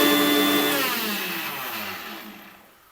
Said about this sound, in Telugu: తెల్లవాయలు అల్లం మిక్సీకి.